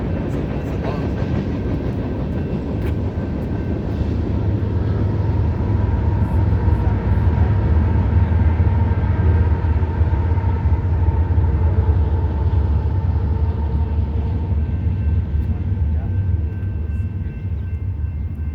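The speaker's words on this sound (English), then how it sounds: "It's a long train." A long train rolls past continuously at close range, a steady loud rumble and rattle of railcars that holds for the whole stretch without easing off.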